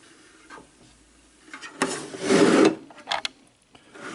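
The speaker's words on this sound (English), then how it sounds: "So you just spin the record." Record spun by hand in a Knosti Disco Antistat cleaning machine, a short rubbing, brushing swish that swells for about a second amid faint clicks and handling noise.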